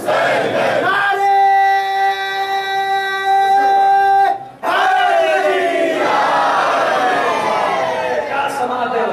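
A crowd at an annual Muharram mourning procession (julus-e-aza) in Delhi chants slogans loudly in unison, with long sustained voiced calls, a brief break, then a dense roar of many voices continuing close by.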